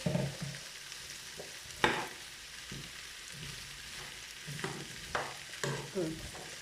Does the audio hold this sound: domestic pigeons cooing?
no